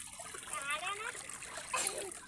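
Water splashes and dribbles as slippers are washed outdoors, in short close splashy bursts, with young girls' voices chattering faintly in the background.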